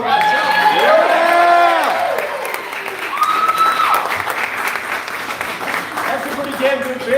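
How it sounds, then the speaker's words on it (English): A crowd claps and cheers for a brewer at a packed campaign event in Littleton, New Hampshire: loud, dense applause mixed with shouts and a whoop, under a speaker's voice near the start, then fading into scattered clapping. "let's give a big round of applause for an amazing brewer"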